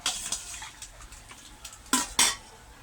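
Chicken pieces are rinsed with hot water in a metal pot, sending sharp clanks and scrapes of metal, with two loud close knocks near the end over a faint wet background.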